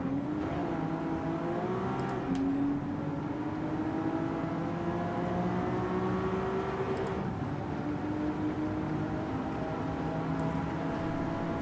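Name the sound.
race car engine in Gran Turismo 7 online race, video game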